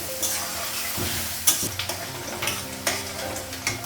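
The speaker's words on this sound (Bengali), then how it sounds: "পেঁয়াজটা একটু লাল করে ভেজে নিব, তারপর মশলাটা লাগাবো।" Onions sizzle and fry in oil in a pan while being stirred, a steady close crackle broken by scraping strokes and small clinks of the utensil against the pan.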